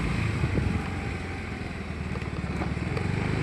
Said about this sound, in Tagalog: Ang bilis ng motor na to,